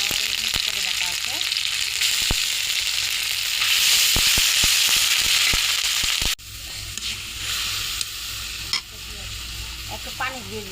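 Ginger-garlic paste sizzling in a pan with fried onions, a loud steady hiss of frying punctuated by sharp clicks of a spoon stirring, then a quieter, duller sizzle after a sudden drop.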